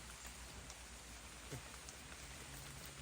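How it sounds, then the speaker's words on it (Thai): Steady rain falls through a forest during the rainy season, a dense, even hiss of drops on leaves and ground that holds constant, with no one speaking. "ฝนยิ่งนานยิ่งตกหนัก"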